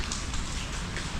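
Steady rain falls outside a homestay, a dense, even hiss of water that stays constant with no voices.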